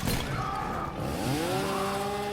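Leatherface's chainsaw in the fighting game Mortal Kombat XL revs loudly and continuously, its engine pitch rising and holding, up close.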